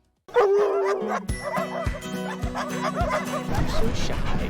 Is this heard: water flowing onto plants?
no